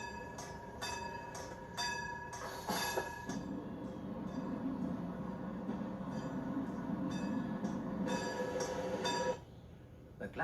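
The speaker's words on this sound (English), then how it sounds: "the closing barriers indicate that the train is about to leave" Glacier Express train departing a station in the Swiss Alps, a low steady rumble of rolling stock with a repeated bright ringing from the crossing barriers and a voice speaking briefly.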